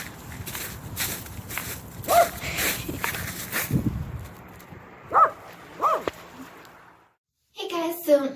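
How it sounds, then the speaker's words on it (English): A dog barks outdoors on a bright sunny day, a handful of sharp, fairly distant barks spread out over several seconds amid footsteps and a voice. "we've got Lily Dog barking at who knows what"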